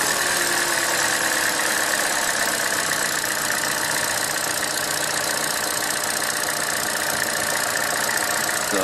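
A 2014 Chevrolet Cruze 1.4L engine idles steadily after starting, following a valve cover gasket replacement, with a constant, even mechanical hum and hiss heard up close under the open hood, no voices.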